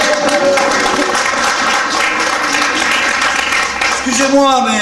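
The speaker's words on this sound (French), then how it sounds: "On peut applaudir." Sustained audience applause at a French game show event, steady and dense throughout, mixed with music and voices of the crowd.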